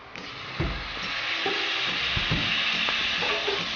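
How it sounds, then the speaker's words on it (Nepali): Tomatoes drop into spices and ginger-garlic paste frying in a pan for a potato and fiddlehead fern curry, then get stirred: a steady, fairly loud sizzle broken by several scraping stirs and soft thuds, with no talking. "टमाटर राखेर मजाले चलाइदिउँ।"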